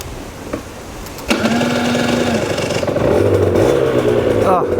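An Aprilia RS 125 two-stroke motorcycle starts off and revs hard through rising, buzzing engine pitches as it pulls away and shifts, loud and close with wind noise around it.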